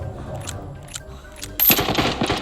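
An M249 machine gun in the video game Arena Breakout fires a sudden sharp burst of rapid shots after a quiet stretch of faint rustling.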